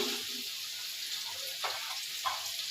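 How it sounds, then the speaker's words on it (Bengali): Onions frying in oil until browned for biryani, giving a steady close hiss and sizzle with a few faint scrapes and clinks over it. "পেঁয়াজগুলা ভেজে নিচ্ছি বাদামি কালার করে"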